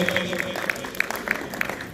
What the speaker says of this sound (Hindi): भरपूर तालियों से इनको इनके डेजिग्नेशन की मुबारकबाद पेश करते हुए